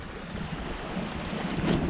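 Steady wind rushing at sea east of Cape Canaveral, Florida, ahead of a cold front, with wave wash around a sailboat; a broad, continuous roar that swells slightly toward the end, with no voices.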